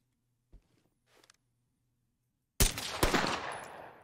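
Gunfire in the tactical shooter Ready or Not strikes a suspect: after near silence with a faint tap, two sharp, loud gunshot blasts land about half a second apart, followed by a fading noisy tail.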